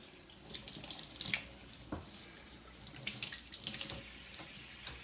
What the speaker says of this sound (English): So we're going to take these over here and give them a quick rinse.